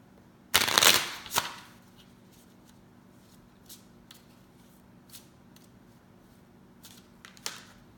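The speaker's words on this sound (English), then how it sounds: "we're going to pull a card from the crystal deck" A crystal oracle deck is shuffled in one brief, crisp riffle near the start, followed by a few soft card taps and slides as a card is drawn, all close and fairly quiet with no talking.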